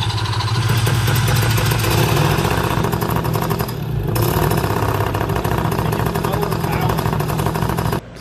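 A small engine runs steadily after its ignition coil was repaired with a wood screw, a loud continuous mid-pitched drone with voices over it, then it cuts out abruptly near the end.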